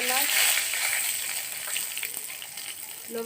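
Potatoes and cauliflower frying in oil with bay leaf, dried red chilli and cloves, a steady close hiss and crackle of sizzling oil throughout, with a brief voice near the end.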